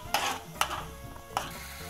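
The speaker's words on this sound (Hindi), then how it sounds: "इसमें जब तक अच्छे से नहीं मिक्स होगा, भून नहीं जाए अच्छे से टमाटर के साथ, तब तक इसको ऐसे मिक्स करती रहूँगी।" Yogurt and tomato sizzle in a pan while a spoon stirs, with three distinct scraping strokes over a soft, steady frying hiss, close and fairly quiet.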